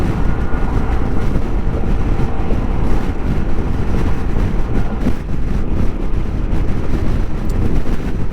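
Strong wind buffets the microphone in a constant roaring rumble while riding a Suzuki Burgman 400 motor scooter at highway speed, with engine and road noise blended underneath.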